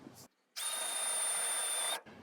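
Power drill boring into wood, a single steady high whine lasting over a second, close and clear, with short quiet gaps of handling noise before and after.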